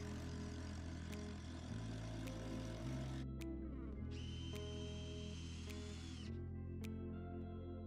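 A drill drives screws into a roof purlin on a timber roof frame, with steady whining motor runs that shift pitch as each screw goes in, loud and close and without speech.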